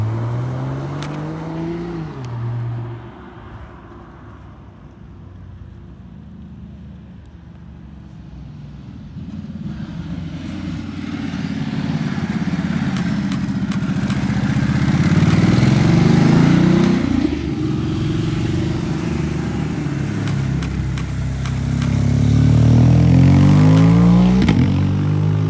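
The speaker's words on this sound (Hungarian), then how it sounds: "És amikor nem dumálok bele, akkor legalább lehet hallgatni a motorhangokat." Vehicle engines climb the Stelvio Pass, rising and falling as cars and motorbikes pass, with revving swells building to loud near peaks between quieter stretches.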